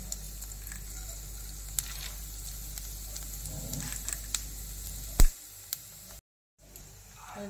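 Bay leaf, cumin seeds and dried red chillies sizzle in hot oil, a steady low crackle with a few sharp pops, a brief cut to silence near the end, then a fainter hiss.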